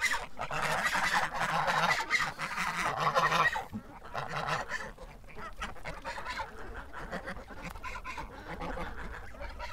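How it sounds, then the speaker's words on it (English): A flock of ducks gathered close by, honking and quacking in a busy, overlapping chorus that is loudest at first and then thins to scattered calls. "Oh, we got more ducks coming down."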